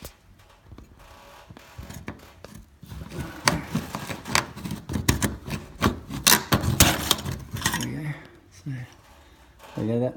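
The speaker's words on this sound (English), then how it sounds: "you get a flat bladed screwdriver in behind it once you've pulled it down and pop it this way" A flat-bladed screwdriver pries the spring clip of an old-style ceiling downlight, giving scraping, rasping and sharp clicking pops at close range, with short bursts of movement and a louder snap near the end.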